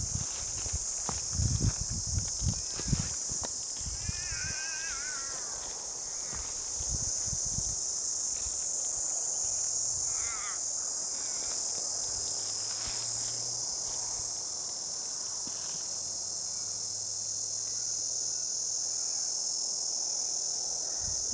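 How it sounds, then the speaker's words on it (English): A dense, high-pitched cicada drone hums continuously in Banksia bushland in Western Australia, with a few brief rustles and footsteps near the start. "Those cicadas are getting louder."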